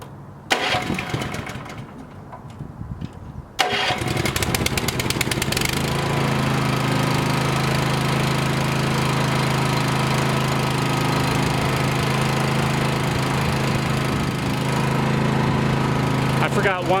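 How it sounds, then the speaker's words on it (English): NiftyLift TM34T boom lift engine cranks and starts after a few seconds of quieter activity, then settles into a steady, loud, continuous idle that runs to the end. "I'm going to start the engine back up."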